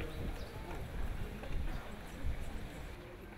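A pair of cob horses trots while pulling a carriage during a driving manoeuvrability trial, hooves clip-clopping in a steady rhythm at moderate distance amid busy outdoor background noise.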